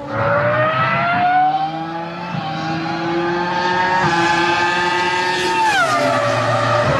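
Michael Schumacher's Ferrari Formula One car running tire tests at a Ferrari test track north of Florence, Italy, a loud, close, high-revving engine whine rising steadily in pitch through gear changes, with no talk.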